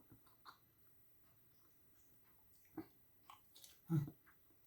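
Someone bites into big, crunchy jumbo pork meatballs and chews them up close, giving a few faint scattered crunches and one louder bite near the end, with no talking over it.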